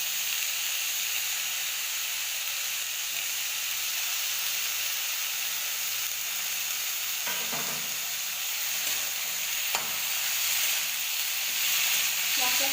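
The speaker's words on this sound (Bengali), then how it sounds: "কেটে রাখা কুমড়ো ফুলগুলো দিয়ে দেবো।" Chopped pumpkin flowers dropped into fried spices in a pan, sizzling with a steady loud hiss and crackle, a few stirring scrapes breaking through later, with no talk.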